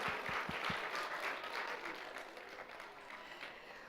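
A crowd at a school completion ceremony and orientation claps for students being recognized, starting with a few distinct loud claps before settling into a broad, sustained round of applause that slowly tapers.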